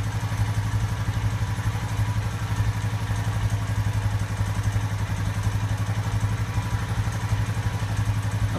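A 2016 Honda Rancher 4x4 DCT ATV engine idles steadily while warming up, a close, even low thrum with a faint clattering tick running through it and no break.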